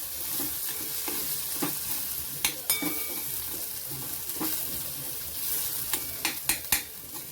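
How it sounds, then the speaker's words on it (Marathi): Peas mixture with sesame seeds, chili flakes and spices sautéed in a pan, a steady sizzle with scraping stirs and a few sharp utensil clinks against the pan, close and without talk. "एक मिनिट आपल्याला जरा हे परतून घ्यायचंय"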